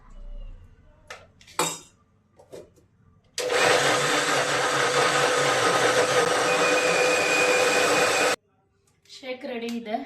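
A kitchen blender mixing a protein shake of banana, apple, peanut butter and water runs steadily for about five seconds, loud and even, then cuts off sharply. Brief clinks and a short voice come before and after it.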